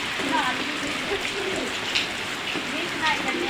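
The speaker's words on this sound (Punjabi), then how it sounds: "ਕਾਫੀ ਸਾਰਾ ਮੀਂਹ ਆਈ ਜਾਂਦਾ ਹੈ" Steady heavy rain pours down in a constant hiss, with faint scattered bird calls and no talking.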